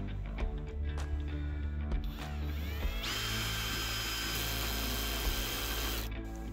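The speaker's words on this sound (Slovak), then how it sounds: "Spojka je dostatočne citlivá na to, aby hlavičky skrutky nepretáčala cez materiál už na prvom nastavení." Parkside Performance PPBSA 20 cordless drill on a low clutch setting, a steady close motor whine that rises to a higher pitch midway while driving a screw into material, alone with no talk.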